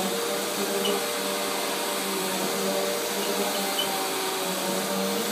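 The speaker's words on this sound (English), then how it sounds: "This is my doggie playing with the vacuum cleaner, and it has to be on." A running vacuum cleaner gives a steady, loud drone with a constant hum and no pauses, while a dog plays nearby; no voices are heard.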